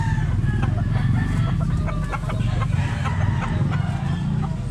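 Several chickens cluck and crow in a close, steady farmyard chorus of overlapping calls, with a constant low background din and no voices.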